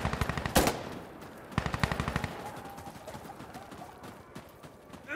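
Automatic rifle fire from the video game Insurgency Sandstorm rattles in two rapid bursts of evenly spaced shots, the first ending in a sharp blast, followed by quieter scattered pops.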